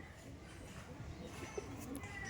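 Kalasobuj pigeon cooing softly at close range in a loft, with low coos faint against steady background noise.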